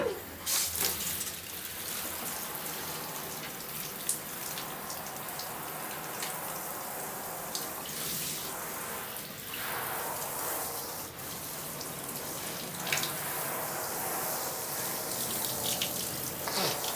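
Water runs from a tap into a bath, a steady rushing, splashing stream that continues without a break for the whole stretch at moderate level.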